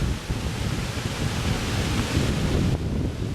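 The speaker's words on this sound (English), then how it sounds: "And just below is the waterfall." Waterfall at Moss Cave in Bryce Canyon, a steady broadband rush of falling water, loud and continuous throughout with no voices.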